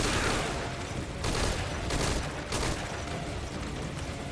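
Enemy gunfire in Metal Gear Solid V: Ground Zeroes, several bursts of rapid shots cracking over a rumbling background, with louder volleys near the middle of the stretch and no talking.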